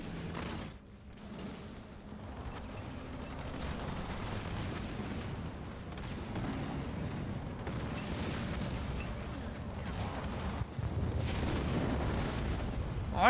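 Archer missiles pound an army in Halo Wars 2, a dense, continuous rumble of overlapping blasts and impacts that rolls on steadily for several seconds at fairly low volume.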